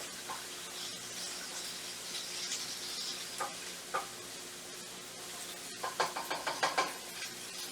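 Onions and garlic sizzle in a pan with a soft steady hiss, punctuated near the end by a series of sharp clicks and scrapes from a utensil; no one speaks.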